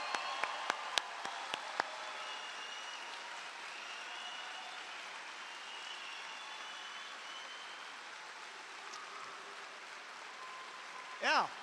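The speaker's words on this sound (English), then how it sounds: "Let's give them one last big round of applause." An audience at an engineering graduation ceremony applauds in a sustained, even wash of clapping that sounds somewhat distant. A few sharp individual claps stand out at the start, and a short burst of cheering comes at the very end.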